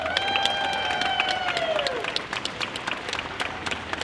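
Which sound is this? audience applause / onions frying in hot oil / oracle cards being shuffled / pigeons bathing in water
audience applause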